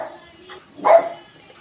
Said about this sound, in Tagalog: nag-iingay po yung aso namin